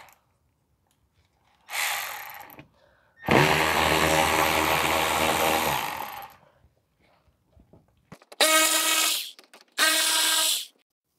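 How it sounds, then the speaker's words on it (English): Power tool working Torx T45 screws on a 2014 Volkswagen Tiguan 2.0 TSI during cooling system service, several close bursts: a short whir, a long loud run of about three seconds, then two quick high-pitched spins, with no talk. "So we're gonna take off the screws now."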